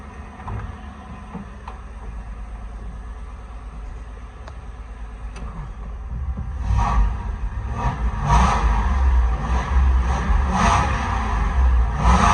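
A Ford F100 truck, with a Crown Victoria full-frame swap, has its engine revved. A steady idle builds into a louder, rougher rev with repeated throttle blips near the end, close by with no talk.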